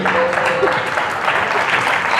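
Wedding reception guests applaud a best man during the speeches, a steady wash of clapping that holds level throughout, with a voice faintly audible beneath it.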